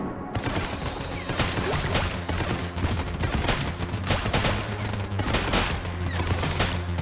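Rapid gunfire from the video game Enter the Gungeon, dense continuous volleys of shots with repeated sharp bursts throughout, moderately loud over a steady game soundtrack hum.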